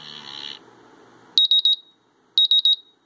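Two bursts of shrill electronic beeping from a MultiRAE Lite gas detector alarm, three rapid beeps each, separated by a short pause, loud and close, after a brief stretch of muffled noise.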